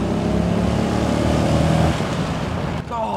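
A Marcos Mantara, a rare hand-built classic British sports car, its engine droning loud and steady from inside the cabin as it pulls along, then easing off near the end.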